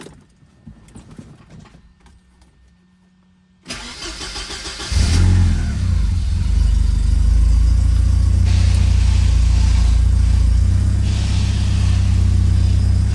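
A Porsche 944 Turbo engine cranks and fires up at about four seconds, then settles into a steady, loud idle that runs on without pause.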